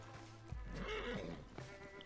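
A horse in the video game Red Dead Redemption 2 gives one close, loud whinny lasting about a second, with a few hoof clops around it.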